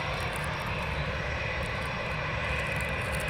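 An EasyJet jet departs at Manchester Airport, its engines producing a loud, steady, sustained roar with no voices over it.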